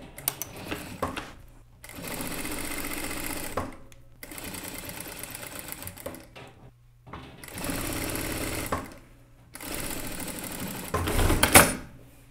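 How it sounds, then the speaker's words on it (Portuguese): A sewing machine stitches pockets onto a child's shirt, running in loud close bursts of rapid mechanical whirring separated by short pauses, with no talking. "é só alfinetar e costurar em volta"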